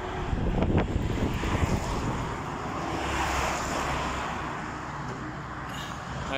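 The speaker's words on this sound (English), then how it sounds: "Heavy traffic." Heavy traffic passes along the old straight Roman road, the Postumia, as a continuous broad rumble and whoosh of vehicles, with wind buffeting the microphone and a louder passing surge near the start.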